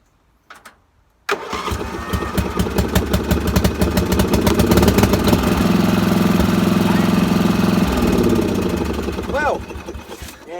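A ride-on lawn mower engine cranks briefly, fires up and runs at a loud, steady, slightly rough idle close by, with a voice speaking over it near the end.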